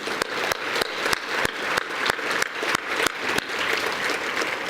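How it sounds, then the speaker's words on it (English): An awards-ceremony audience claps for several honorees in a sustained, even burst of applause, with a few sharper individual claps standing out near the microphone and no one speaking. "Let's give them all a round of applause."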